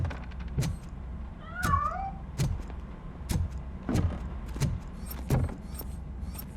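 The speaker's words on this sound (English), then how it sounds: "That cat must be hiding inside." Cat in the video game Robocop Rogue City, giving one drawn-out meow amid a series of evenly spaced sharp thuds or footsteps over a low hum.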